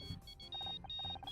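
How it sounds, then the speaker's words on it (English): A phone rings in the video game Murder By Numbers, a brief series of bright electronic beeps repeating in quick rhythm over low background music. "I think that's my phone."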